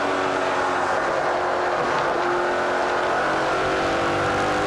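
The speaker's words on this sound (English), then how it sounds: "One quick burp of the throttle to get the car to rotate." NASCAR Pinty's Series race car at a fall race, engine note rising in a quick throttle burp amid a continuous roar of racing engines heard from trackside at a distance.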